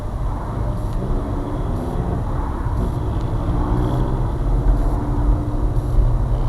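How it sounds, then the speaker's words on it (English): A loud, rough 1.2-litre car engine rumble with a throaty, rattling drone from a holed exhaust, continuous and close, swelling slightly as it goes. "Either that was a hole in the exhaust."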